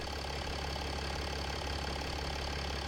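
A 2007 Mercedes W211 E280 CDI diesel engine idles steadily and smoothly, a close, continuous low rumble with a fine even clatter and no knocks or bangs.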